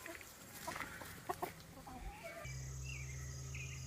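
Backyard chickens cluck in a few short, separated calls at close range, followed by a steady low hum that covers the rest.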